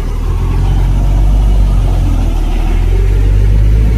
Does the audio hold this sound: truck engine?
yes